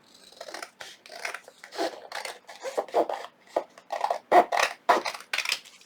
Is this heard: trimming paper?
yes